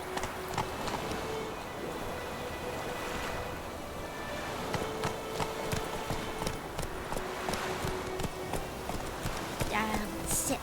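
Horse hooves clip-clop at a galloping pace in The Witcher 3, a steady rhythmic drumming on the ground with wind and ambient game sound underneath, and speech appears briefly over it.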